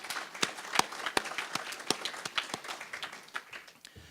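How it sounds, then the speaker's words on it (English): Audience at a public affairs council gathering applauding, sparse crisp claps from a small group, uneven and thinning out over a few seconds. "I think you deserve a round of applause."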